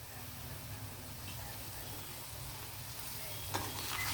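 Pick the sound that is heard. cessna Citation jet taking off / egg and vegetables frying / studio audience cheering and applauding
egg and vegetables frying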